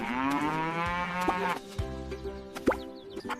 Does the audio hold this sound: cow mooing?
yes